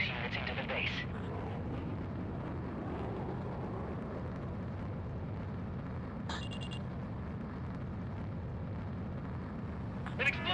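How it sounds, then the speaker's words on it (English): A deep, sustained rumbling blast and roar from an in-game explosion in Ace Combat 7 stays continuous and heavy throughout, with a few brief crackles layered on top. "An explosion inside!"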